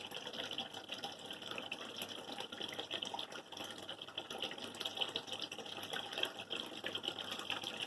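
A tap runs steadily while hands are rinsed under hot water, a continuous faint hiss and splash of water that goes on for the whole stretch with no talk.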